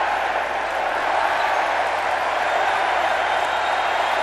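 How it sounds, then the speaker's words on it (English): A dense basketball arena crowd roars and cheers continuously during a Uganda v Angola FIBA World Cup qualifier, a loud sustained wash of voices with no pauses. "Listen to the crowd."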